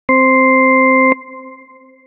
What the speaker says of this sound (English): The most fundamental definition of a Shepard tone is just a sine wave at a particular frequency, with another sine wave stacked an octave higher.